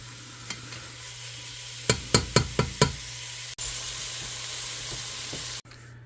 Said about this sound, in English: after frying up your Philly sirloin steak and your peppers